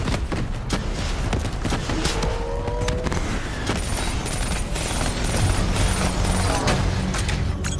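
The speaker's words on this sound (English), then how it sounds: "Javelin missiles incoming!" Dense Call of Duty Black Ops 3 combat with incoming Javelin missiles and continuous gunfire, loud and sustained throughout with rumbling blasts, rapid shots and whooshing streaks layered together.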